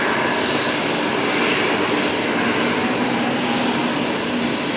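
A Qantas A380 airliner on the runway at Brisbane Airport, a loud, steady broadband roar of jet engines that holds evenly throughout.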